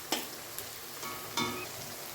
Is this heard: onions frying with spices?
yes